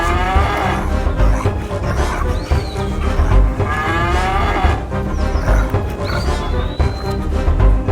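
Several cattle low in long, loud moos that come in overlapping waves across the whole stretch, close by and busy, with no talking.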